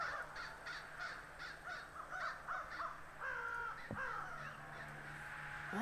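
Crows caw in the video game The Night of the Rabbit at the Grey Mountain, several faint calls in a repeated series over soft ambient background, with a quieter distant cawing pattern later.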